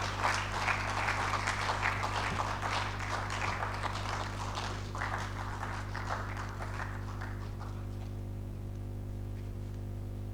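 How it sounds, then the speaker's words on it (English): Audience applause after a keynote address at an engineering week event in Bwari, Nigeria, dense clapping that is loud for the first seconds and thins toward the end, with a steady low hum beneath. "another round of applause for this wonderful keynote address"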